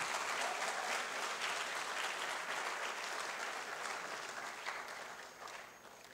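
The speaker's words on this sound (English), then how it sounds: "Oh, please, let's clap." Audience applause after a speech at a gathering, dense and sustained clapping that holds steady before slowly thinning out toward the end, with no voices over it.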